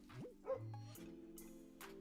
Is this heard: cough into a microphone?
no